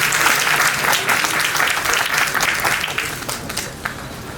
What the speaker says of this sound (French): Sous l'éclat de vos acclamations,